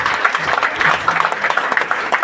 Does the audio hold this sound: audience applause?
yes